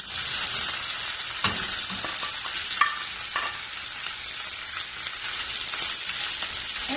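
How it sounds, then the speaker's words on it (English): Shrimp fry in a hot pan with two tablespoons of oil, a steady bright sizzle running throughout with occasional stirring clinks and scrapes, close and continuous. "I have here a pan heated up with 2 tablespoons of oil. I'm going to put in the shrimp."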